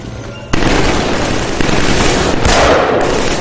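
Heavy gunfire pours down on the player in a Killzone 3 firefight, a loud, dense crackle of shots and bursts. A sharp onset is followed by continuous rattling blasts with a few stronger impacts.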